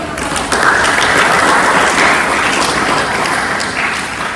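Audience applause in an Indonesian classroom learning session, a dense, loud burst of clapping that holds steady for several seconds before tapering slightly.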